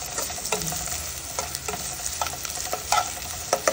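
Onion frying in a pan for spicy chicken soup, a continuous loud sizzle with quick stirring scrapes and small clicks of the utensil, close up and with no talking.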